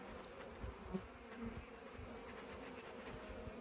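Honey bees hum in a dense, steady buzz close by at a hive, with faint clicks and shifting tones but no talking.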